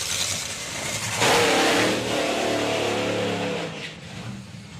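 A Top Fuel drag racing car's engine roars loudly at a drag strip, a sharp surge of thunderous power rising abruptly, then holding and fading as it pulls away.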